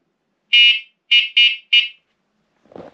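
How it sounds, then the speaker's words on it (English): An ENGWE M20 electric bike horn gives four short, shrill electronic beeps, one then a quick triple. They sound close and loud against silence and are followed by a faint rustle. "It's also got a horn."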